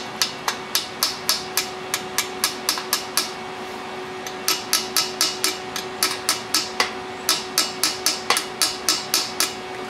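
A hammer taps a welded steel square into a Harbor Freight roller stand in quick, steady, ringing metallic blows, close and loud, in two runs split by a brief pause.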